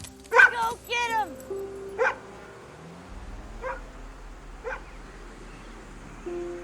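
A dog, Krypto from a Superman film, lets out a few sharp high yips and a whimpering bark close by, then quieter, scattered yelps over a low background hum.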